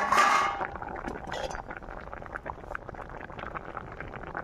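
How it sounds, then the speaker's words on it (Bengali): A cooking pot lid comes off with a quick metallic clink at the start, followed by soft bubbling and gentle clatter from the pot of boiled potato and green banana, close by with no voices. "এবার ঢাকনা খুলবো।"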